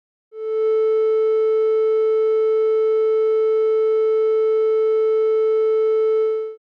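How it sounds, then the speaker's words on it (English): A synthesizer oscillator plays a steady triangle-wave tone, a clean, pure hum that fades in, holds evenly for about six seconds and fades out, alone without any voice. "Let's hear a triangle wave and see its representation on an oscilloscope."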